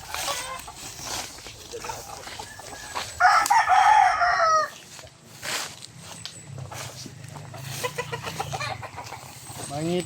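Chickens in a coop cluck close by, with a rooster crowing loudly midway, over footsteps and a voice talking.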